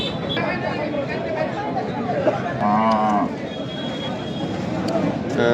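A desi bull lows at a busy cattle market, one clear drawn-out moo rising above constant crowd chatter and nearby talking voices.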